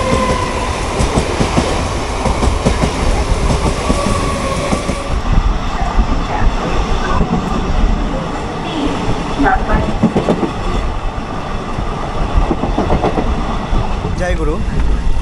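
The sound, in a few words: Maa Tara Express train with ICF coaches running at speed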